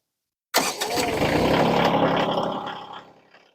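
A Kioti CK2620 compact tractor's engine runs steadily at low throttle while its loader lifts a pallet of about 1,500 pounds, a loud continuous mid-range drone that starts abruptly and fades slightly near the end, with no talking.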